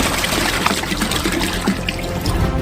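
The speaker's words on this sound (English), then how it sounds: "Open the water and pour it out." Water pours from a jug into a saucepan in a kitchen, a continuous splashing trickle at steady volume for a few seconds with no talking.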